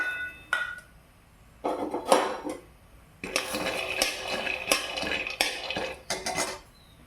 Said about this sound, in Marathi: हे शेंगदाणे आता मी भाजून घेते